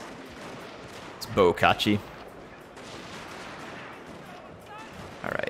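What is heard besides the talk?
gunfire from guns on the wall, Total War Shogun 2 video game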